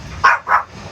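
A pesky dog barks twice in quick succession, two short, fairly loud barks close by, while food like dried squid and dangit is being eaten.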